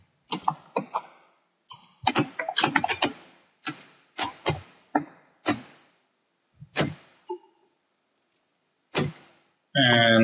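Typing on a computer keyboard during a coding session, close, crisp key clicks in quick bursts separated by short pauses, ending with a longer rattling run of keys.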